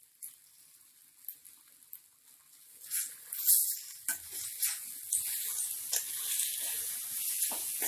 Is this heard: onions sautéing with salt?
yes